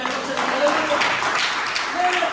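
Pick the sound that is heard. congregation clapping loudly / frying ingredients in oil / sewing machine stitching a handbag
congregation clapping loudly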